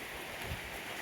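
Rain falling in a steady soft patter, a quiet even hiss with no voices over it.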